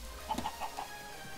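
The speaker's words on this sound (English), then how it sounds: "Why do you always prove me wrong, little chicken?" A chicken in the Minecraft video game clucks in a quick run of four or five short, clear clucks over a faint background, with no talk.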